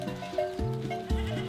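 Goats bleating on a hillside farm, several wavering, nasal bleats overlapping in quick succession, fairly close and loud with no talk over them.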